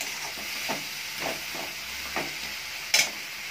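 Masala fries in oil in a pan over a high gas flame, hissing steadily at close range. Periodic scraping stirs come every half second or so, and a sharper metallic clink lands near the end. Nobody speaks.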